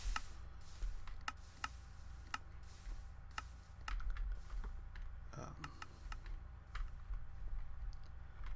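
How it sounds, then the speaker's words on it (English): Rapid, irregular clicking of a Minecraft dropper firing items into lava, sharp dry ticks repeating close up against a quiet, faintly humming game background. "the clicking that you hear is from this dropper shooting out items into lava"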